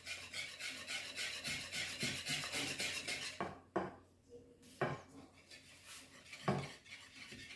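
Rhythmic scraping and whisking of yogurt doughnut batter in a bowl, quick repeated strokes that pause, then a few separate louder scrapes and taps.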